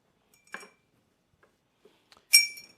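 A few light glass clinks ring out during a quick mix of a cocktail with triple sec and lemon juice, with a brief clink early on and a brighter, louder chime near the end amid quiet.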